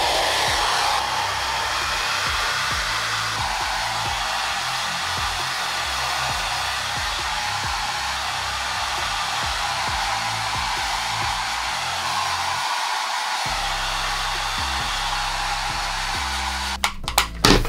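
A compact, high-airflow hair dryer blows steadily on short men's hair, a loud close whoosh whose pitch shifts slightly as it sweeps side to side, with a brief dropout near the end and a few clicks.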